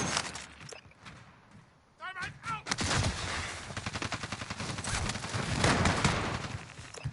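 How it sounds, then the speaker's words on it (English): Call of Duty gunfire: rapid bursts of shots, some in fast automatic runs, crackle loudly through a busy battlefield mix, with game announcer voice callouts heard over the action. "Someone shooting at someone."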